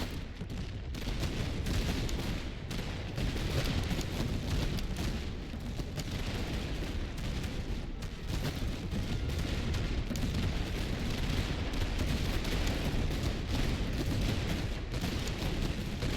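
Enemy soldiers fire at long range in a Master of Command battle, producing a continuous, dense roar of distant musketry and cannon-like rumble with no clear single shots, sustained throughout.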